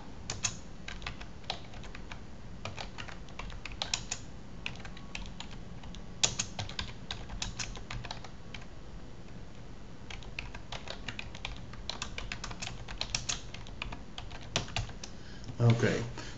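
Someone types a short email message on a computer keyboard, a steady run of quick light key clicks with occasional louder taps, close by and continuing for the whole stretch.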